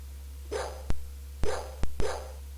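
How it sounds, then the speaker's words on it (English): Video game dog barks sound in short bursts, about five in two seconds, sharp and fairly close over a steady low hum, with no talking, from the Macintosh game Uninvited. "Why do I hear dogs?"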